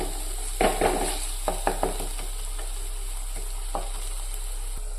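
Coriander powder frying in a hot pan for a restaurant-style mackerel chilli curry, a steady close sizzle broken by a few scraping stirs in the first two seconds, with no talk.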